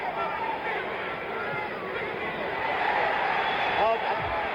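Boxing crowd at Muhammad Ali vs Ron Lyle, a broad murmuring hubbub with scattered shouts that swells slightly toward the end, heard under a commentator's voice.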